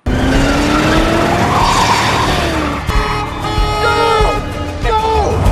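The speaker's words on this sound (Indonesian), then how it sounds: "Lalu Jack mengejar mobil yang membawa Katie." Car chase from a Jack Ryan film: engines roar and rev as tires squeal and skid in several sharp bursts, loud and close, with score-like tones mixed in.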